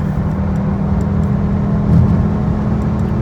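A BMW E60 M5 engine drones steadily from inside the car, a deep constant hum with a slight swell near the middle as it shifts up through the gears.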